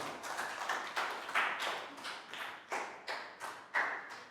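A handful of people clap in brief, uneven bursts, sharp slaps repeating at close range with no voices.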